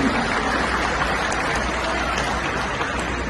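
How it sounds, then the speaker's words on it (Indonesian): Audience applause at a political declaration gathering of Forum Ka'bah Membangun, a steady dense wash of many hands clapping throughout, moderately loud with no clear breaks. "Boleh beri tepuk tangan kepada Bapak Malik"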